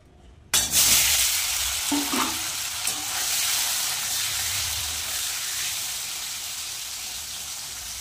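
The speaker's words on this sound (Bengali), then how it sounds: "পনিরটা আগে ভেজে নেব।" Paneer drops into hot oil in a kadai and starts sizzling at once. A loud hiss follows with a few stirring clinks, then eases into a steady fry, and no one talks.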